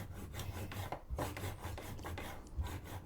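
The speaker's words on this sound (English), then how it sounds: "Now I'm cutting the cakes at 130 millimeters in" A knife trims and cuts cake layers down to 130 millimetres, a soft, rhythmic rasping and scraping repeated in short strokes, close up with no voices.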